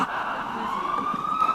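Emergency vehicle sirens wail outside during a city council public hearing, a steady rising tone heard at moderate distance over a faint room hum, with no talking.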